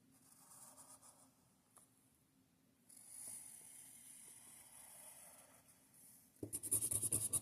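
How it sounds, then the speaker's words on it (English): A pen scratches a scalloped, bumpy outline onto paper with soft, close strokes, quiet at first and then a bit louder and more rasping toward the end. "And now I'm going to draw scallops or bumps"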